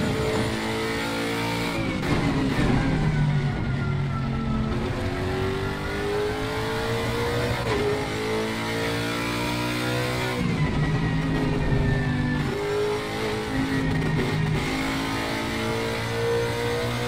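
A Lexus RCF GT3 race car engine at Kyalami in Assetto Corsa Competizione revs hard through repeated rising sweeps, dropping sharply at each gear change and climbing again, loud and continuous without speech.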